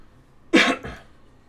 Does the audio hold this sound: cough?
yes